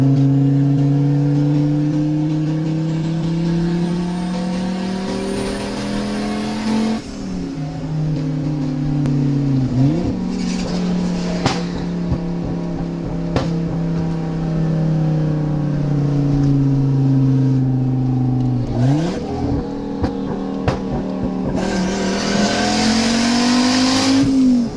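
A turbocharged Fiat Marea revs hard and accelerates at night, its loud engine note climbing through several gears with brief dips at each shift, close and continuous throughout.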